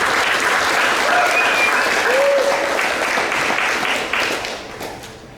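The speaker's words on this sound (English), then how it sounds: "So big round of applause for Emily." Thick, sustained applause from a large audience at an awards banquet, steady and loud for several seconds before thinning and fading out at the end.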